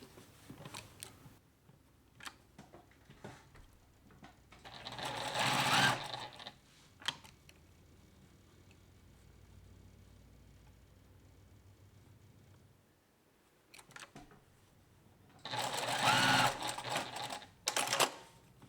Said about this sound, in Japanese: まずはタックを縫っていきます